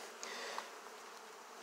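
Honey bees buzzing around a Flow hive, a dense steady drone of many wings close by, with a couple of brief higher whines from individual bees passing near, alone without voices.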